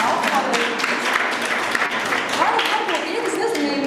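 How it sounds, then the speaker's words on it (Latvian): Audience at an art exhibition claps steadily and fairly close, a dense patter of many hands sustained for several seconds, with voices talking over it. "Aplausi."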